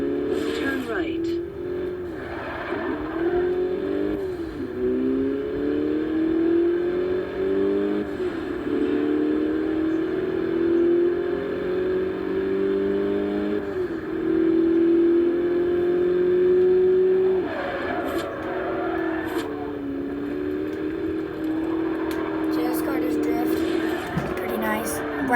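Car engine in Forza Horizon 2 during driving and handbrake drifts, a sustained revving drone that rises and falls in pitch over the whole stretch, with speech over it.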